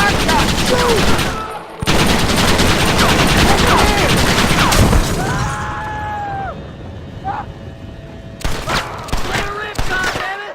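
Rapid gunfire from the Red Dead Redemption video game, with loud sustained bursts, a pause, then more shots, while players shout over it.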